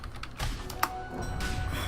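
Computer keyboard typing during a Dota 2 match commentary, a steady patter of soft key clicks with one sharper tap, fairly close and continuous over low background noise.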